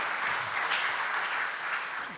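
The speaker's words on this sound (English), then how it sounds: "Ajit Dange with a round of applause" Audience applause at a pharma awards ceremony as presenters are welcomed on stage, a steady dense wash of clapping from a large crowd holding evenly for a couple of seconds.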